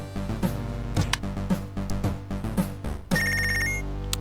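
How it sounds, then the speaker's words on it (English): A telephone rings in the Punch Club video game, with repeated rhythmic bursts of ringing over steady game music and a brighter electronic tone near the end, moderately loud. "Another phone call."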